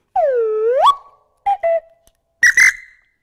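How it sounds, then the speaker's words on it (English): A shrill police whistle: one long warbling blast that rises in pitch, then two short sharp toots and a final loud trill, heard alone and close. "And the police whistle."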